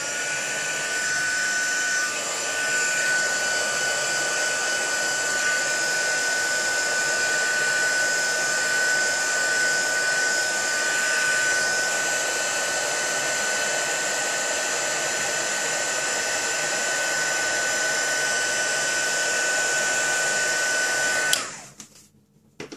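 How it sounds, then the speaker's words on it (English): A heat embossing gun blows hot air with a loud, steady whirring hiss for about twenty seconds before switching off abruptly. "now I'm going to heat emboss this again"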